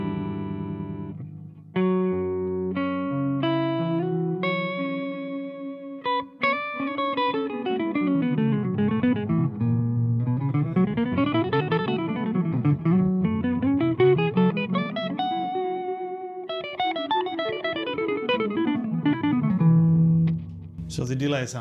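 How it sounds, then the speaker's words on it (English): Melodic guitar-like phrases run through a delay effect on its whiskey preset, the repeats pitched an octave lower, swelling and gliding in continuous wavering lines for about twenty seconds with no talk. "So the delay sound is 1 octave lower."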